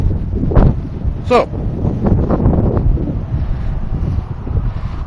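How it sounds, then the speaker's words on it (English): Wind buffeting a handheld microphone outdoors on a cold, blustery day, producing low rumbling gusts that rise and fall beneath a voice. "It's a little windy and it's kind of cold."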